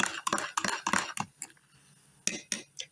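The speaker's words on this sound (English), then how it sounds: "I'm going to stir that." A spoon clinks briskly against the inside of a coffee cup, a quick run of close, bright metallic taps, a pause, then a few more scattered clinks.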